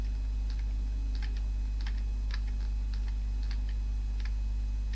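Typing on a Thomson MO5/TO8 home computer keyboard, with irregular clusters of soft key clicks over a steady low electrical hum, fairly close and without voices.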